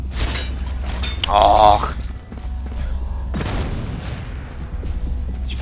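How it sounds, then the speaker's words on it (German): A grenade fired around a corner explodes in the first-person shooter Hard Reset, a loud, short blast in the middle of the clip, with someone speaking over the game's noise before and after. "da schießen wir nochmal geschickt eine Granate ums Eck"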